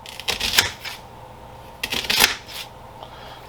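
Jalapeños are chopped on a kitchen dicer into tiny pieces, giving two bursts of crisp, close clacking chops, each a quick cluster of blade strikes with a short pause between, no talk.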